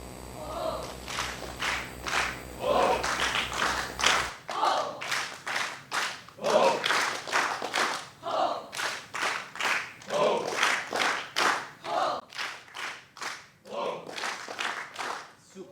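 Audience clapping in a girls-versus-boys competition game in an auditorium, with bursts of sharp, rhythmic group claps repeating in waves, loud and close, and a little background noise before the clapping starts.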